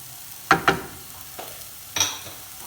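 Finely chopped small onion drops into a pan of sautéing potatoes, giving two sharp sizzling bursts followed by a spoon stirring and another hiss of frying, close and clear with no talk.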